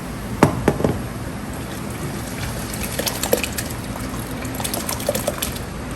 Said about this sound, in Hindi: ऐसे पानी मेरा बॉयल हो गया, अब मैं इसमें चावल डालने लगी हूँ